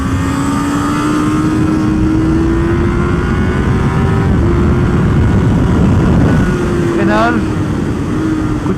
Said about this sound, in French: Coup de gaz, coup de gaz. À chaque rapport on met le coup de gaz.